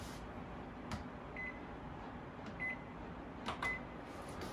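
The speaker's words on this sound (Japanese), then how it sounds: "そしてレンジで 600ワットで1分" A microwave oven running at 600 watts to heat a glass of wine, giving a low steady hum with a few faint clicks and thin tonal blips, close but quiet.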